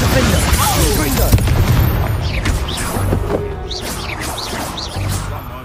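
Bombarda and Confringo spell blasts in the video game Hogwarts Legacy make loud booming bursts and crashes over a dense, continuous wash of battle effects and game sound.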